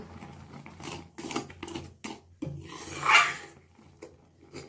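Carrot halwa made with jaggery and sugar is stirred in a pan, giving close, rough scraping and rubbing strokes in uneven bursts, with one louder scrape near the end.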